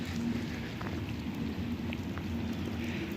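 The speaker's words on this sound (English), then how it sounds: "It is raining out here pretty good." Steady outdoor rain gives a continuous soft wash of hiss with a few scattered drip ticks and a faint low hum underneath.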